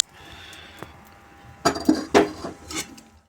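Roasted white sesame seeds are tipped from a pan onto a plate, heard as a soft rustle followed by a few loud metallic scrapes and clinks of the pan and spoon against the plate.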